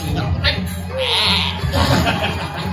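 A goat bleats once in a wavering cry, heard near and fairly loud over ongoing chatter and background noise.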